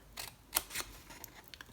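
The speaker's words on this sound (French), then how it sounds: "je vais juste couper le long ici, ainsi qu'ici, et pareil de l'autre côté" Scissors snip through paper while a mini travel-suitcase scrapbook craft is cut out, giving a few quick, close, crisp cuts with short pauses between them.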